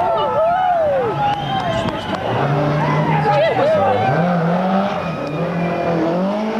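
A rally car on a gravel stage at the 1990 Galway International Rally overshoots a hairpin, its engine rising and falling through revs with scrabbling tyres while a crowd of spectators chatters nearby.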